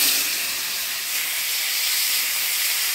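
Boiled potatoes hit hot oil tempered with cumin seeds and bay leaves, a loud, even, steam-like hiss that holds steady throughout.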